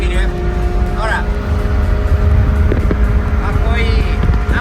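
A BMW fitted with an aftermarket exhaust muffler rumbles nearby at low revs, a steady engine growl heard beneath people talking.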